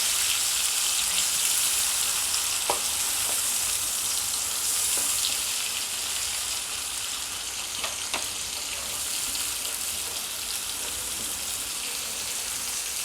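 Tomato puree stirred into a sizzling onion masala in a pan while cooking Vidarbha-style stuffed brinjal, a steady dense hiss of frying heard close with a few faint scrapes of the spoon, no talking.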